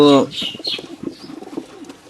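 Released pigeons burst into wing flapping, a loud flurry at the start followed by softer fluttering and movement, with a brief coo-like call at the outset.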